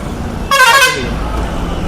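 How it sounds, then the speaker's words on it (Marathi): A single loud car horn honk blares for about half a second, close by, over steady traffic rumble. "हे हॉर्न कशाला मारतो यार, व्हिडिओ बनवतोय"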